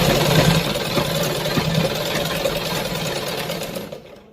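A motorized sewing machine drones close and continuously while sewing the belt seam of a salwar, then winds down and cuts off at the end.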